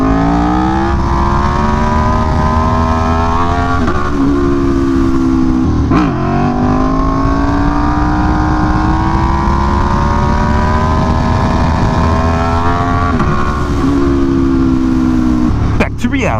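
Aprilia Tuono V4 1100 motorcycle engine revving hard in long, steady pulls with rising pitch and brief shift breaks, loud and close throughout, with someone talking over it.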